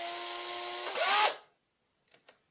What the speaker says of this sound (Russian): Теперь нам в первой части надо просверлить сверлом четверкой ровно до вот этой линии